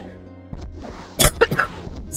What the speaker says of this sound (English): I coughed right into the mic.